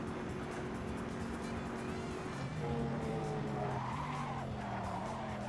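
A race car in Assetto Corsa locks its brakes while riding over a curb, giving a sustained tire skid and squeal over a steady engine drone that shifts pitch midway, loud and close.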